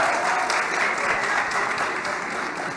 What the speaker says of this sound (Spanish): le están aplaudiendo a Uribe